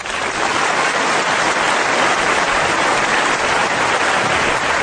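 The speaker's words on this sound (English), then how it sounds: "You deserve a crowd applause for that" Applause from a crowd, dense and steady clapping that stays loud and close throughout with no voices on top.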